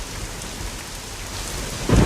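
Heavy rain pours steadily with a dense, constant hiss, and a deep rumble of thunder swells at the very end, used as a horror story sound effect.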